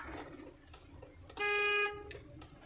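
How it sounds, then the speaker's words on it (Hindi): A car horn gives one clear honk of about half a second, loud and close, during a driving lesson on an open road, with quiet road noise before and after. "हॉर्न मारो एक बार"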